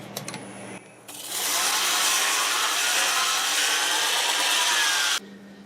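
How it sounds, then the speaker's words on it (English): A small redwood burl bowl is sanded on a lathe with a sanding pad on an extension reaching the bottom, giving a close, steady abrasive hiss for about four seconds before stopping abruptly. "So I'm going to use this extension for my sanding pad so I can reach the bottom of this bowl"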